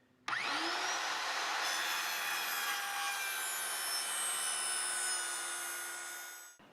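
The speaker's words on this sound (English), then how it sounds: "I'm going to use my circular saw to do that." A circular saw rips through a wooden board while building a crawlspace door: a sharp start, then one loud, continuous cut that whines steadily for about six seconds before winding down.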